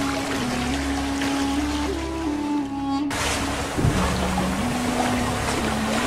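A sailboat under way in the tropics, with steady loud wind noise, rushing water and hull wash throughout, a low drone fading out midway, and an abrupt change in tone.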